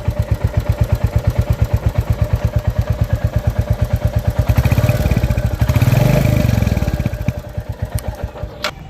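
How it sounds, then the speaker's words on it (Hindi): A Royal Enfield J-series Bullet engine idles with a steady, rhythmic thump, a fast metallic tappet ticking running on top of it, and one brief rev swelling in the middle. "तो यहाँ से जो टिक टिक आवाज़ आती है वो होती है हमारी टैपेट नॉइस की।"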